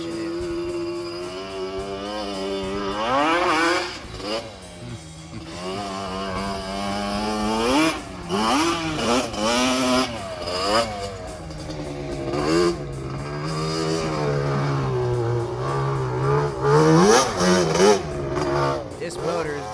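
A Yamaha Banshee ATV with an upgraded two-stroke motor and soft suspension runs on a dirt track, its engine loud and rising and falling through repeated revs. Someone talks over it.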